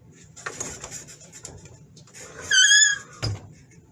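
A Cricut Explore Air 2 cutting machine, cutting vinyl for a shirt, lets out a loud, shrill squeak lasting about half a second, rising above a low mechanical hum and light handling noise.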